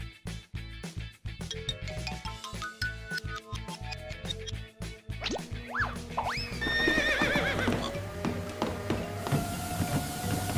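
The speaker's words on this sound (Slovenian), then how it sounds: "Konja ste dali na tekalno stezo." A horse on a treadmill gives repeated whinnies and neighs, with scattered hoof clatter. The sound is fairly close and busy, with rising tonal calls toward the end.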